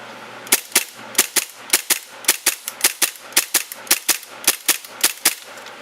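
A Tokyo Marui 5.1 R airsoft pistol fires about twenty sharp, snappy shots in quick, slightly uneven succession until the magazine runs empty, each crack close and loud with no talking.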